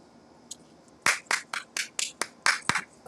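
A run of about eight sharp, loud hand claps in an uneven rhythm after a faint clap or two, close to the mic with no voices.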